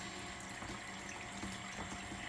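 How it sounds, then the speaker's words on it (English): Water draining from a home water heater into a floor drain, a steady, quiet, continuous rush and trickle with no other sounds. "it's easy to drain your water heater when you have to replace it"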